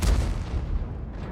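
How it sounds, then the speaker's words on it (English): A single heavy 130mm tank gun shot from World of Tanks on the Himmelsdorf map, a deep, loud blast followed by a decaying rumble, with no talk. "130mm gun does a fair bit of damage"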